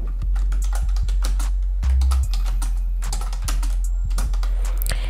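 Rapid typing on a computer keyboard, a steady run of close, crisp key clicks with occasional heavier thumps, heard alone without speech.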